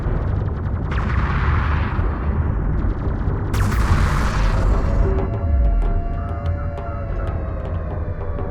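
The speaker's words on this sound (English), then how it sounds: "Enemy railgun firing on friendlies." Heavy booming shots from an enemy railgun in Homeworld: Deserts of Kharak, several loud blasts with rumbling tails amid ongoing battle noise.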